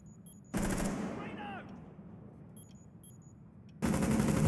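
Gunshots in a first-person shooter game come as two loud, dense bursts of fire, one short and one at the end, with quieter game sounds and faint chirps between them.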